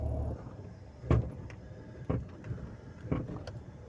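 Underbody clunks from a Maruti Wagon R K-series as the clutch is released in first gear, with three or four sharp knocks about a second apart over steady low engine rumble.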